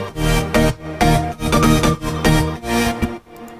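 Full stacked synth patches from a sound pack play a chordal pattern: thick, bright layered tones pulsing in roughly six rhythmic bursts, loud and close, fading out at the end.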